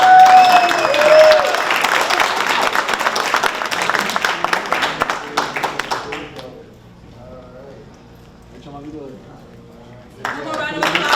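Loud clapping from a graduation ceremony crowd fills the first six seconds, then drops to quieter scattered sounds before a fresh burst of applause returns near the end.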